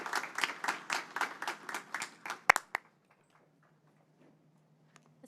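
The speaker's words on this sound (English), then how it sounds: "Let's give one more round of applause for all of our new board members" A small group claps in a brief, rhythmic burst of applause for new board members at a board of education meeting, fading out after about three seconds into near-silence with a faint hum.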